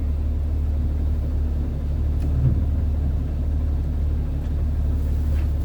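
A 2000 Jeep Wrangler TJ with a 4-liter engine and 5-speed, smelling of burning coolant, idles steadily up close with a deep, even rumble and no voices over it.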